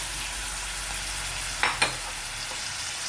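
Vegetables and pepper sizzle steadily in a hot pan, a soft continuous frying hiss with a couple of brief clinks, no talking.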